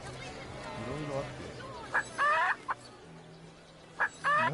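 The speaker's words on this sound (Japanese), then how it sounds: "鶏、いいんだね。" Chicken clucking from the video game Divinity: Original Sin, a few short bright clucks in two bursts over a steady game background, with a voice talking in the clip.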